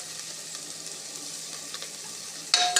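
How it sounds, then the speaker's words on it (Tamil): Onion, mint and coriander sautéing in oil for prawn biryani, a continuous close frying sizzle with soft stirring, ending in a brief louder clatter. "அதனால் நல்லா வதக்கிடுங்க."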